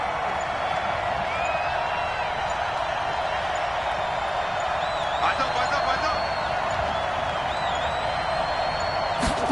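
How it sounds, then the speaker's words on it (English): A stadium crowd roars steadily inside a dome in a football video game, a dense continuous wash of cheering. "The crowd here in the Dome making things difficult."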